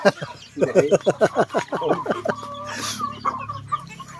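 Chickens cluck in a rapid close run of short calls, fading into softer clucks, with people talking nearby.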